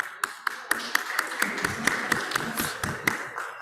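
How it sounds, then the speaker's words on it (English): Conference audience at an Islamic banking and finance event claps in a sparse, irregular patter with distinct sharp claps standing out, fairly loud and close, no talking over it. "Let's give them a round of applause, brothers."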